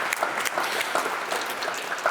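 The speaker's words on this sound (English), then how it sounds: "Can we give them a round of applause?" A debate audience gives a short burst of applause, with crisp individual claps audible in a moderately sized crowd.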